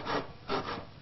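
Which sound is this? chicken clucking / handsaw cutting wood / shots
handsaw cutting wood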